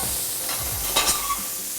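Scallops fry with butter in a hot pan, making a steady close sizzle with a short burst of brighter crackle near the middle.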